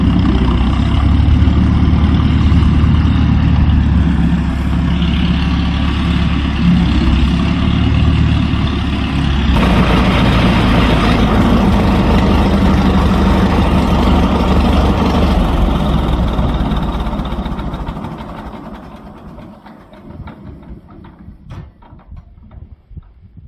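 A McCormick 15-30 tractor engine idles nearby with a loud, steady, deep low rumble that holds for most of the stretch, then fades away as the engine winds down, leaving quieter background noise.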